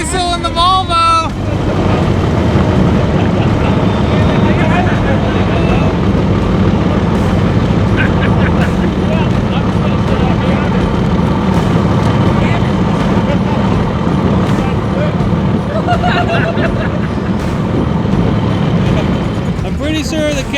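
A diesel car and a Volvo race in a mud buggy event, their engines droning loud and steady with a dense rumble and wind buffeting, while voices talk over the noise.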